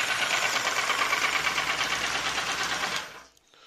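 A homemade vibrating table for sifting worms, fitted with mesh screens, runs with a steady, fairly quiet buzzing rattle, close by and alone, then winds down and stops near the end.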